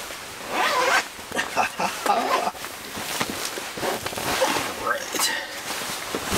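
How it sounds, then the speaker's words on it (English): The zipper of a camping screen tent is tugged open in repeated short, rasping pulls, close and fairly loud, with a person speaking in between. "Cursed zippers."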